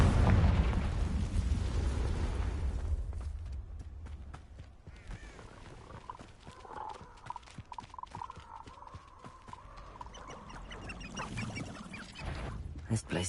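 A burst from the Confringo fire spell in the Hogwarts Legacy video game: a heavy, booming blast that fades into crackling debris and rumbling, with scattered pops and scrapes afterward.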